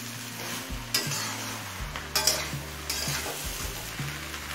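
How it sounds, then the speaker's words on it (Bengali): Mixed winter vegetables for a Bengali panchmishali torkari sauté in a pan, a steady sizzle broken by several sharp scrapes and taps of a spatula stirring, close and clear, with no talking. "আবারও সব কিছু মিনিট পাঁচেক কষিয়ে নিয়েছি।"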